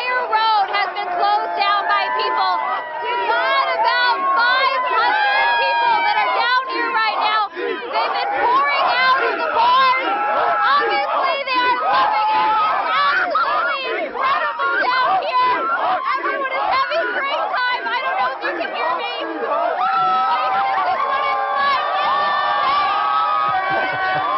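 Dense street crowd in Seattle celebrating a Super Bowl win, with continuous loud cheering, shouting and chatter, including high children's shouts, sustained throughout without pause.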